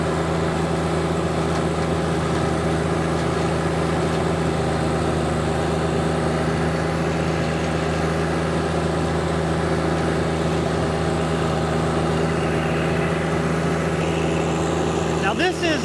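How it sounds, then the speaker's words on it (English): Sub-compact tractor with a rear-mounted Maschio flail mower cutting overgrown grass, weeds and saplings: a steady droning engine and mower hum, constant and close, with a faint higher whine near the end. "this mower is mowing just as well as the front-mounted Ventrac mower we showed the other day"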